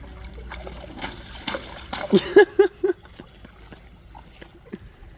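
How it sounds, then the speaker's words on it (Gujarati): People splash about in water at an outdoor soil pit, giving a few quick sloshing splashes that mix with nearby voices and excited shouts. "બાજુવાળાને પાણી ઉડાડ"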